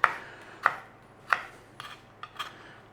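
A knife slices through a tomato on a cutting board, with three clear sharp board taps about two-thirds of a second apart and a few softer cuts after them.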